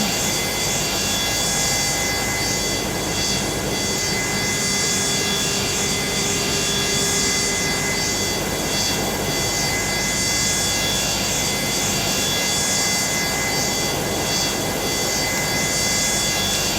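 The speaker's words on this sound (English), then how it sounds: "Now we're going to start engine 1." Boeing 727-200F freighter engine 1 spooling up in a Microsoft Flight Simulator cockpit, a steady loud broadband jet roar with a sustained whine, holding even throughout with no talk.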